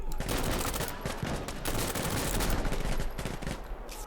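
Rapid automatic gunfire in Insurgency: Sandstorm, likely from an MP5 submachine gun during a recoil test, rattling continuously and loudly for the full four seconds with dense, sustained bursts.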